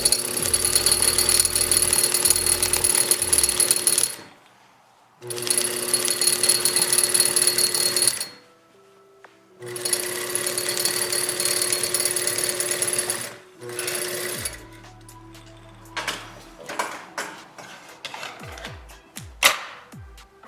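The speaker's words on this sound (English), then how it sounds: "when you're sewing this, you can get really close to the" Sewing machine stitching a ponytail hat brim in three long, loud, steady runs separated by short pauses, followed by scattered handling clicks and taps near the machine.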